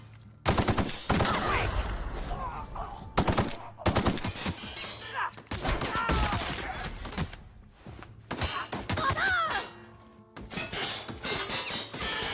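Gunfire in The Outer Worlds: repeated loud, close shots and short bursts with sharp impacts, separated by brief pauses, over a steady low hum, with a voice speaking between volleys.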